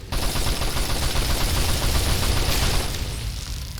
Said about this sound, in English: So I'm going to break out the machine gun for close quarter fighting.